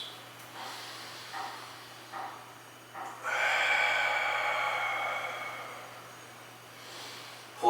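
Slow, deep breaths taken in mountain pose during a morning yoga routine: a long, airy breath swells and then fades over several seconds, with softer, shorter breath sounds before it, close and fairly quiet.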